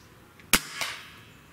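A single sharp air rifle shot from a .30 caliber Gamo Swarm Magnum or Hatsan 135 firing 44.75 grain JSB pellets, a loud close crack followed a quarter second later by a softer distant impact thud, then quiet.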